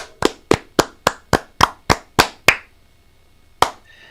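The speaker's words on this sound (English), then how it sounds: "10 claps. Ready." Hands clap ten times, close and crisp: nine evenly spaced claps in a quick steady rhythm, then a pause of about a second before one final clap. No voices accompany them.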